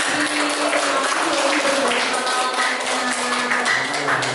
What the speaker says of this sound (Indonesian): Wow, tepuk tangan dulu buat Ozi.